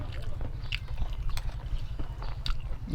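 Crunchy chewing of gristly boiled pig ear cartilage close to the mic, repeated wet bites and crackles in an uneven rhythm over a low steady hum.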